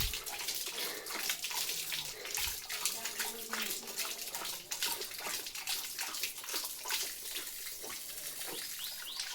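Water runs steadily from a tap for Leo, a German Shepherd, to drink, a continuous splashing hiss with occasional small knocks and faint movement nearby.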